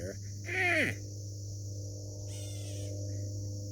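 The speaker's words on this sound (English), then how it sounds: "Yeah, it's like a cat bird." A bird outdoors, likened to a catbird, gives a harsh, mewing call followed by a fainter, rougher note later, over a steady low background hum.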